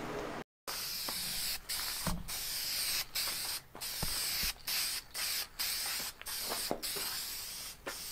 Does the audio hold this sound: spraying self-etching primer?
yes